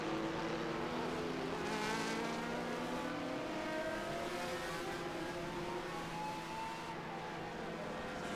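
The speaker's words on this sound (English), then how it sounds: "That's Michael Popp in a 1997 Van Diemen RF 97." A 1997 Van Diemen RF 97 open-wheel race car with wings and slicks in a vintage road-course race, its engine droning steadily at high revs throughout, with rising and falling harmonics as it runs past at speed.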